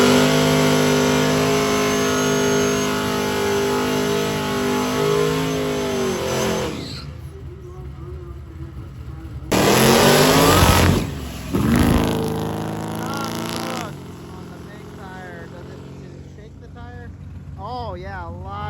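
Drag race car making a pass at a drag strip with tire shake, a loud engine roaring and climbing through gears before cutting off, then a second burst of revving and quieter engine sounds trailing away, with commentary over it.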